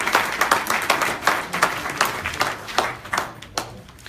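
A small audience at a coin blockchain launch event claps in a sparse round, the individual claps clearly separated into a loose rhythm, moderately loud and close, with no voices over it.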